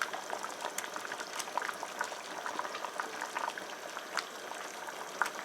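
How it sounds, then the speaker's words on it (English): Light soup with okra simmers at a rolling boil, bubbles popping and gurgling in a busy crackle at close range, a few louder splashes standing out, with no talking. "I'm going to add the okra in now."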